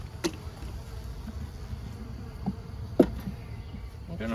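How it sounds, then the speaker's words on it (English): A full swarm of honey bees being hived into a box with comb, giving a steady close insect hum with a couple of sharp knocks and thuds. "That's a full batch of bees, that's for sure."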